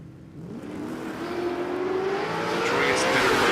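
Junior drag racing cars launch down a Queensland strip, one a Falcon, their engines rising in a loud, continuous climbing roar as they accelerate away from the line.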